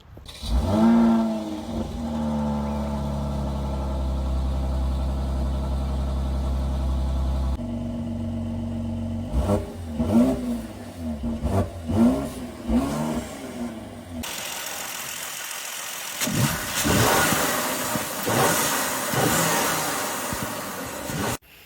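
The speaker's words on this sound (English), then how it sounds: "here is the startup and the revs stock in Sport Plus." A 2018 Mercedes-AMG E43 engine with stock exhaust in Sport Plus mode cranks and starts, settles into a steady idle, then is revved repeatedly in sharp bursts, close and loud, with no talking.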